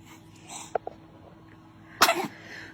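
A baby lets out one loud, abrupt sneeze after a couple of small faint sounds, in a quiet indoor room.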